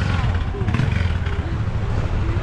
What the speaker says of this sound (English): the second I turn this on a motorbike revs up at the side of us